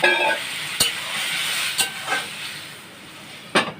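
Tangra fish curry with potato and eggplant being sautéed in a pan, a hissing sizzle broken by three or four sharp spatula clacks against the pan.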